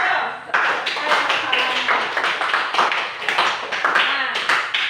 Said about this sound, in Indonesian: tepuk tangan untuk Lia